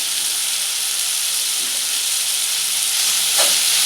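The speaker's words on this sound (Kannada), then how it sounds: "ಎಲ್ಲ ಚೆನ್ನಾಗಿ ಫ್ರೈ ಮಾಡ್ತಾಯಿದ್ದೀನಿ." Tomato and onion masala with salt and turmeric sizzles steadily in a hot pan, a dense continuous frying hiss with a faint stir near the end.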